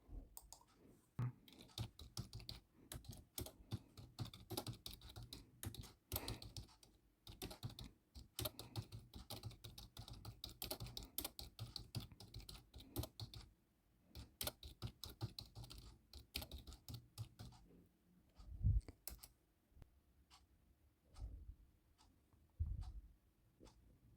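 Someone types a prompt on a computer keyboard, with long bursts of rapid clicky keystrokes broken by brief pauses and a few heavier key thumps, close up and with no talk.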